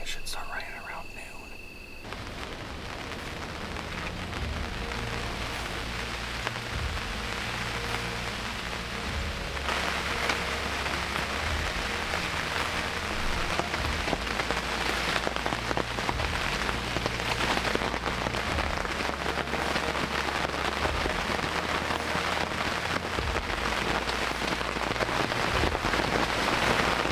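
Steady, heavy rain pours down and drums on a surface, a dense continuous hiss that stays loud throughout with no voices.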